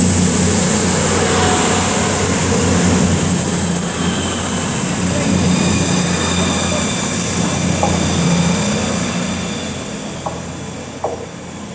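A train rolls steadily through Lichfield Trent Valley station at close range, a sustained roar with a high metallic whine above it and a few clanks near the end.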